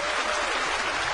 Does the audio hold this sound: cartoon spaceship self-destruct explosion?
no